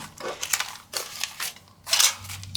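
Scissors snip through paper for a junk journal crinkle flip pad, a few close, crisp crunching cuts in short bursts with pauses between.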